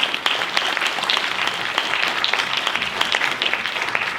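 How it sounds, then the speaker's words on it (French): Sustained audience applause at a social film festival awards ceremony, dense steady clapping from a large crowd filling the room at even loudness throughout. "Oui, on peut vous applaudir."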